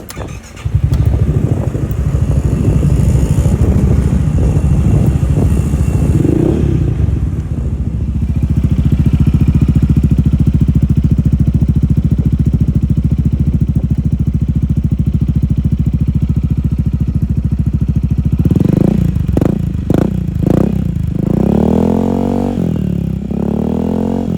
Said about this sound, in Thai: เดี๋ยวมาสตาร์ทให้ฟังเสียงท่อนะครับ